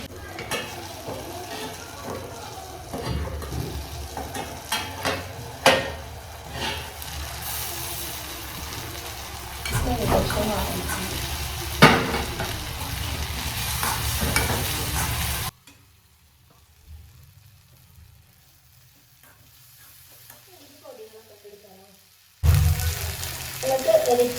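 Onions and tomatoes frying in a pan, a steady close sizzle with occasional stirring clatter that stops abruptly partway, leaving near quiet before resuming briefly.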